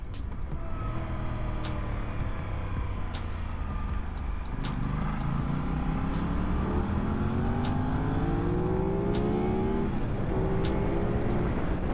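Sport motorcycles, Aprilia RS660s, ride close by with steady engine drone and rising revs, gear changes shifting the pitch upward in repeated climbs, loud and continuous with wind rush throughout.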